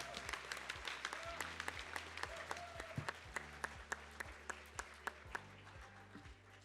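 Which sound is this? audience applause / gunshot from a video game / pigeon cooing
audience applause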